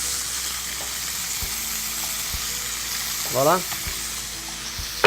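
Mussels with chopped garlic and chives sizzle steadily in a hot pan, with a few soft clinks as they are tossed and a brief spoken word near the end.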